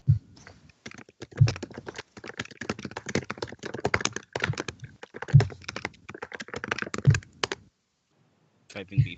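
Fast, crisp clacking of fingers typing on a computer keyboard comes in dense bursts with short pauses and heavier thuds from the larger keys, close and clear, with a voice faint beneath.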